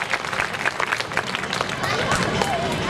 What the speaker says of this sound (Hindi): इन सभी दाताओं के लिए एक बार जोरदार तालियां हो जाए